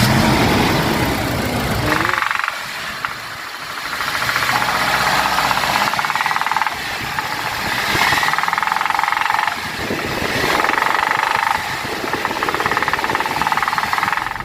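A Toyota Innova engine with old, blackened oil runs at idle, a steady close mechanical rumble with a fine knocking texture that holds level through the clip, with no voices.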